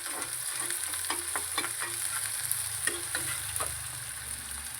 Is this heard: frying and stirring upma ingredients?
yes